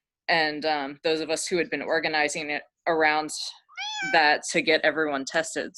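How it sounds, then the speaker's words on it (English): A cat meows near the microphone in a short rising-falling call, squeezed into a pause while a person talks steadily before and after it. "sorry about the cat, or you're welcome for the cat"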